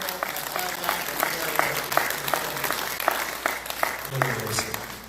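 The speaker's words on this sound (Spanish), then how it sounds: "fuerte aplauso" Audience applause for a guest doctor about to give a talk, a steady spread of clapping with a voice speaking over it throughout.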